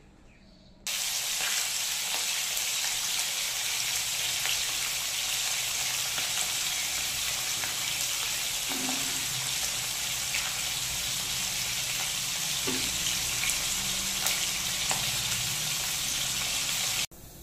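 Fish pieces rubbed with salt and turmeric fry in hot oil, giving a steady, loud, close sizzle that runs almost the whole time with a few faint clicks and no talking.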